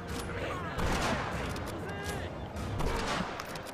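Gunfire in the WWII shooter game Medal of Honor: Rising Sun, a fusillade of shots and explosions overlapping one another across the whole stretch, with game sound effects dense and steady throughout.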